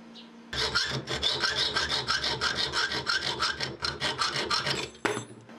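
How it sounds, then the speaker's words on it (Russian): Sawing through part of the metal clamp of an old-style safety razor, a steady run of fast, rasping hand-saw strokes close up, alone with no talk, ending in a brief clatter. "Отпилю одну из частей вот этого вот прижима."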